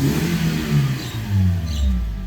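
A car engine revs up and down twice in quick succession, close by and moderately loud, with rising and falling pitch.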